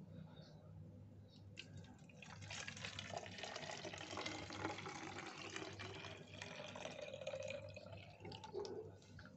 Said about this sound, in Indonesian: Lalu kita tambahkan dengan air,